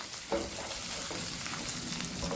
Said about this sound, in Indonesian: Tumis kedua bawang sampai dia warnanya kecoklatan dan harum.